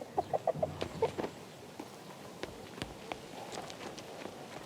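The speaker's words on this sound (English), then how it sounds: "Quit that cheeping, you green freak. Stupid chicken." Small green chick cheeping from inside a barrel in King's Bounty II, several rapid high chirps at the start, then faint scattered footsteps and ambient game noise.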